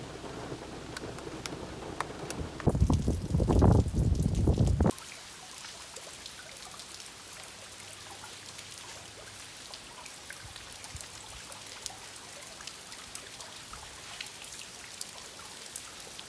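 Steady heavy rain patters all the way through, with a heavy loud burst of downpour or thunder rumble early on before settling into constant falling drops, at a campsite in Tyler State Park.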